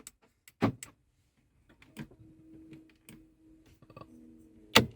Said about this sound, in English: All the door locks work.